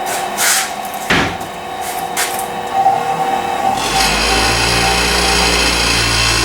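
A Delta variable speed 6-inch bench grinder starts up after a few clunks and handling noises, then settles into a steady, fairly quiet motor hum with a low drone that continues to the end.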